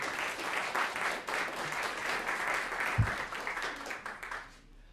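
Steady applause from a crowd, many hands clapping together for several seconds before fading out at the end.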